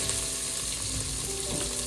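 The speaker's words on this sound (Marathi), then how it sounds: "त्याला हलवून घ्यायचं आहे चांगलं फोडणी बसेपर्यंत. त्याच्यानंतर थोडासा कांदा टाकलाय." Onion and green chilies fry in a hot spiced-oil tempering for a lentil dish, a loud, dense, continuous sizzle heard close and alone.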